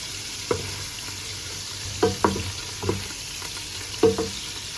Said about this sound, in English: As I'm frying it, I'm going to keep stirring.